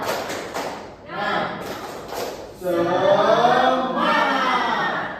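A sixth-grade class in a Pancasila civics lesson claps a rhythmic pattern in quick bursts, and the children's voices chant loudly together in between and over the claps.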